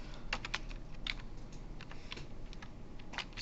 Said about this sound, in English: You get real used to typing that particular syntax.